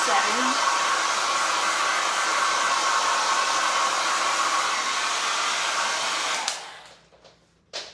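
A hair dryer on its cool setting blows steadily over a chalk drawing on a reusable surface, a close, even whir that cuts off near the end, leaving a few small handling sounds.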